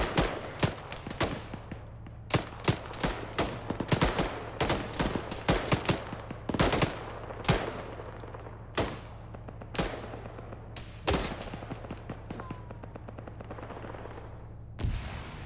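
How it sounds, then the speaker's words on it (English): Repeated marksman rifle shots in the military video game Operation Fault Line, a steady string of sharp cracks at irregular intervals over a constant low hum, some louder and nearer, others fainter and distant. "Marksman fire from our north somewhere."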